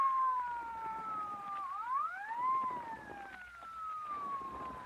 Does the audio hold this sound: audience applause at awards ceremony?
no